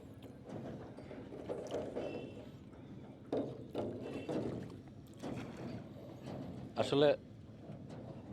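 A riverboat ride in rural Bangladesh, with low rumbling water and hull noise, creaks and a brief mechanical rattle near the end, heard under people talking nearby.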